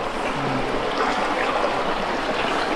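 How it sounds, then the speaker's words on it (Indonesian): A river in a remote mountain village runs in a steady, close, broadband rush of flowing water that fills the clip evenly with no voices. "Di sungai ini guys."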